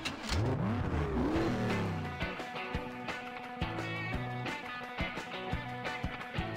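A quad bike engine in the Beach Buggy Racing video game, on a beach cup race, revs up in rising, sweeping whines for about two seconds, then gives way to rhythmic game music and clicky effects at a steady level.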